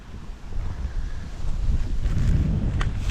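Steady wind buffeting the microphone by the water while float fishing, low rumbling gusts that grow stronger toward the end, with a faint watery wash underneath.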